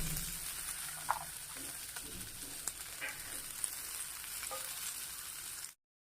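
Steady sizzling and crackling of soaked lentils frying in hot oil tempering, with a few soft clinks of stirring, close and alone.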